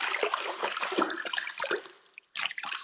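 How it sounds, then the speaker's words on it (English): Close splashing and sloshing of water in a bath, with drips and trickles, irregular movements, then a brief pause before more splashing. "you can hear me moving in the water,"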